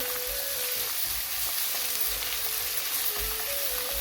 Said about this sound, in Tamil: இந்த கஜுவையும் போட்டு நல்லா வதக்கிடுவோம் வெங்காயம் நல்லா வதங்கவும் பண்ணிடல